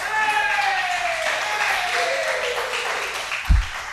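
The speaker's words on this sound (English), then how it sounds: "Round of applause" An audience at a talk show science demonstration claps in a steady, moderately loud wash of applause, with someone talking over it, ending with a low thump.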